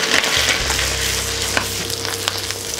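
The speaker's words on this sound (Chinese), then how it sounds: "再继续翻炒，再加入准备好的这个蟹黄。" Crab roe and rapeseed hearts stir-fried with abalone in a hot wok give a steady, close sizzle with scraping spatula strokes throughout, no voices.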